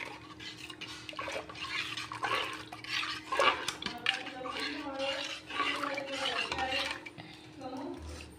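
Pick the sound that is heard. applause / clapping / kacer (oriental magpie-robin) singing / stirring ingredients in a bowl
stirring ingredients in a bowl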